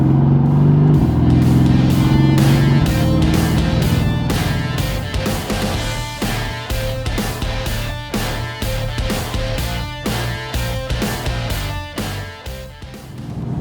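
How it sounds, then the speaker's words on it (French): Mercedes-AMG GT S with its seven-speed dual-clutch gearbox: a loud engine note opens, then gives way to a rapid series of sharp crackles and pops on the exhaust, close and with no voices. "Vous avez entendu cette boîte de vitesse, double embrayage 7 rapports"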